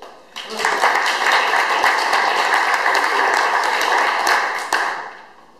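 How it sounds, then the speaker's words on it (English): An audience at a business presentation breaks into a sustained round of applause, loud dense clapping starting abruptly, holding steady for several seconds, then fading out with a few last claps. "Round of applause, please."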